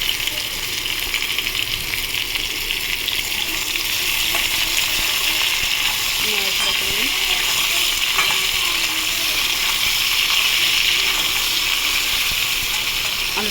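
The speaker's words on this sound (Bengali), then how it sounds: "আলুটা ভেজে ফিরছি।" Potatoes frying in a pan for aalu posto, a loud, dense, continuous sizzle that holds steady throughout, close up, with faint stirring scrapes underneath.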